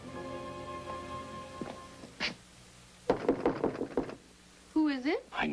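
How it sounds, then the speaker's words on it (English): A few sharp knocks on a door, set among faint background music and followed by voices talking in a dramatic scene. "I knew I tapped the right door."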